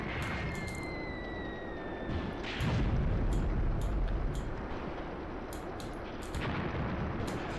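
Artillery fire in the wargame Graviteam Tactics: a steady rumbling battlefield bed with a heavier boom swelling in the middle, sharp distant shots scattered throughout and a faint whistling tone early on.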